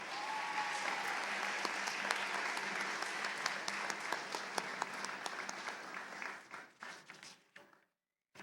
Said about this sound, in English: Let's give these students a round of applause again.